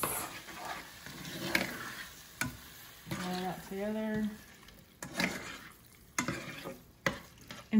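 Corned beef seasoned with Sazon being stirred and fried in a pan, with scraping and sizzling in uneven bursts up close, and a few short harmonic noises in the middle.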